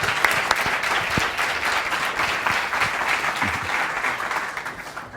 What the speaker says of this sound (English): Yeah, big applause for Baruch.